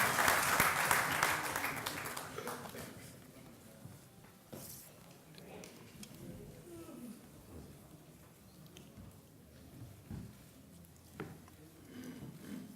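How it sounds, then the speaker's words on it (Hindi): An audience claps to welcome Tariq Anwar at a conference: fairly loud, dense clapping for the first two to three seconds, then fading into scattered claps and low room noise with faint voices. "तालियों की गड़गड़ाहट से तारिक अनवर साहब का आप लोग इस्तेमाल करें"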